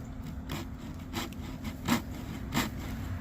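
Hand saw with small teeth cutting through a Japanese maple branch, a few soft rasping strokes spaced about half a second apart, faint and close against a quiet outdoor background.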